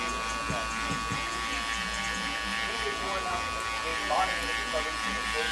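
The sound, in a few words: electric hair clippers with 1/2 guard cutting a fade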